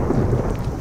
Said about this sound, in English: Man, it's really raining out.